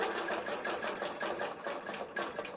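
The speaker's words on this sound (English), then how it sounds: "when I click the green check mark, my machine will start stitching" A computer-guided longarm quilting machine stitching a summer bench pillow, its needle running in a fast, steady mechanical rhythm, moderately quiet and alone.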